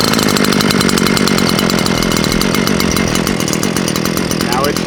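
A Stihl FS 94 R string trimmer's small two-stroke engine runs loud and steady, up close, with a continuous buzzing roar that holds throughout without pauses.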